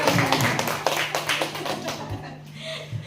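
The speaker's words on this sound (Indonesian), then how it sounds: "tepuk tangan untuk kita" A small audience at a school positive-culture dissemination session claps briefly, a short burst of scattered hand claps that thins out and fades within about two seconds, with some low room noise after.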